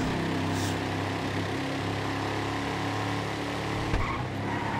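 Race car in GTA 5 pulling away with a loud, steady engine roar that stays close and continuous, with a brief tire squeal and no talk.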